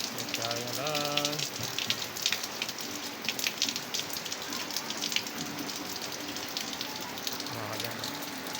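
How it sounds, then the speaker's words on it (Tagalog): Steady rain patters and hisses across the whole stretch, with someone talking briefly over it near the start and again at the end. "Inabot naman tayo ng ulan."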